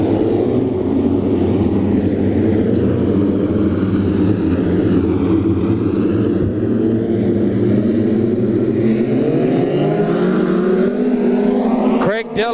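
Midget race cars roar around a dirt track, a loud, sustained engine drone from the pack with rising and falling pitch as they pass, steady throughout and close.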